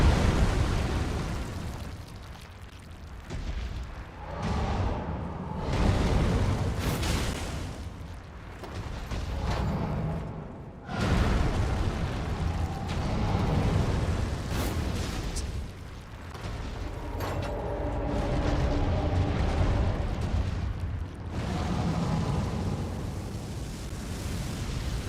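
A dragon's fire breath attack in Elden Ring, a long roaring rush of flame with repeated booming bursts and rumbling swells that rise and fall over about twenty-five seconds, loud and dense.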